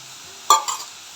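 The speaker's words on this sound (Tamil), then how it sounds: "இந்த வெங்காயத்தையும் நம்ம வதக்கி எடுத்துக்கலாம்." A brief burst of sizzling as onions hit hot oil, with a second softer sizzle and stirring, close and otherwise quiet.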